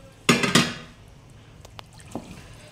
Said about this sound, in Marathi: हे एवढं पातेलीभर पाणी मी त्यामध्ये आधी ओतत आहे, कडकडीत केलेलं पाणी।